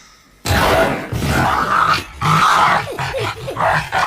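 Wolf growling in a tense film scene set in the wilderness, a loud, close, rumbling snarl that swells and breaks in several bursts over about four seconds with no speech.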